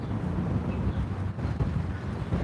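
Strong wind buffeting the microphone beside railroad tracks, a constant low rumbling roar with gusty fluctuations and no other clear sounds.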